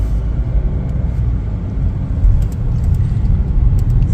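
A Chevrolet Trax rolls along on a test drive, its engine and road noise forming a steady, close low rumble with no talking.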